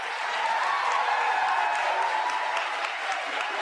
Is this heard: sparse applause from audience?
yes